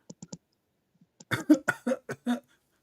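A short run of sharp, bursty coughs, preceded by a few faint clicks, close to the microphone.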